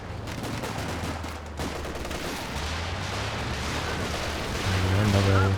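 A Walking Stuka rocket artillery barrage in a Company of Heroes 2 2v2 match, heard as a steady, dense roll of rocket impacts and rumbling blasts that builds louder toward the end under game noise.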